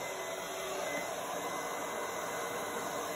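A large blow dryer runs on its low, cool setting, giving a steady, even whoosh of airflow that holds at one level from start to finish without pauses.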